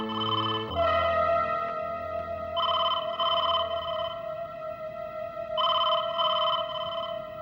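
A telephone rings in a suspense TV drama, in repeated electronic trilling bursts over a steady tone. Without talk, the ringing comes in two clear pairs of rings, loud and close.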